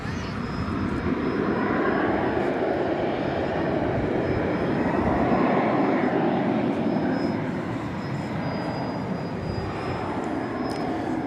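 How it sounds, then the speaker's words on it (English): A jet airliner taking off from DFW Airport bound for Los Angeles on a warm evening, a broad, sustained engine roar with a thin high whine, swelling and easing slightly as it climbs away. "So here goes that flight out to Los Angeles."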